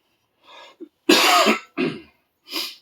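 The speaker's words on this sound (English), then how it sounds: "a little occasional sniffle and occasional phlegm cough" Throat clearing and phlegmy coughs from a man getting over a cold, a few short close bursts separated by brief pauses, with no talk.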